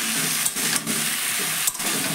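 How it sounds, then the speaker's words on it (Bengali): Ground onion paste fries in a pan with a little oil, giving a steady, soft hiss and sizzle that runs evenly throughout with a few brief dips, and nobody speaks. "এবার পেঁয়াজটাকে ভালো করে আমি ভেজে নেব।"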